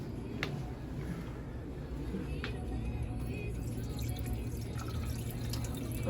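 Dirty water from a hydrafacial is poured into a sink, giving a steady wash of running, splashing liquid with a few brighter drips. It is close and fairly loud throughout.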